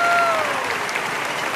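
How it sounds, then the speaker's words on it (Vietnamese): Loud applause from a television studio audience for a mystery singer on a Vietnamese singing game show, dense steady clapping with a singing voice trailing off at the start. "Một tràng vỗ tay thật to dành cho giọng ca bí ẩn phút số 2 của chúng ta đi quý vị"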